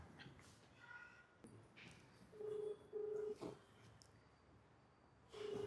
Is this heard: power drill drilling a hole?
no